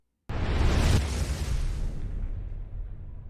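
A sudden loud explosion with a broad boom that bursts in abruptly, then decays into a long rumbling tail, used as a sound effect in a video edit.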